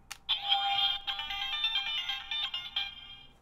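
A toy Kyuranger Ryutsueider transformation device powers on with a bright electronic jingle, a short beeping tone sequence played at moderate volume over faint background hiss.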